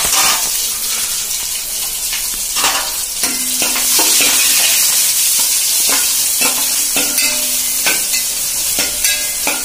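Shallots, ginger, green chilli and curry leaves sizzling in a pan of hot oil while a utensil scrapes and stirs them in repeated strokes, close and loud with no talking.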